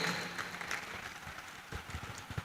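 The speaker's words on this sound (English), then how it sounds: "Please keep clapping until she is here." Audience applause at the SAYPHIN 2025 event in Garden City, a steady wash of clapping that continues at a moderate level for the whole stretch, with no talk over it.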